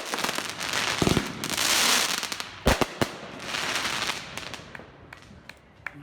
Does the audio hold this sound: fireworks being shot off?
yes